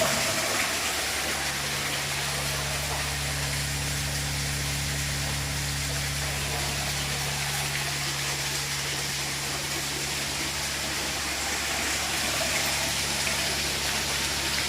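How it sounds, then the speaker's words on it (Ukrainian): Aeration bubbles water in a shrimp-farming pool inside a newly built indoor rearing shop, giving a steady, even hiss of churning water over a low mechanical hum that runs unbroken throughout, with no one talking. "Якщо видно, так, вон вона аерація."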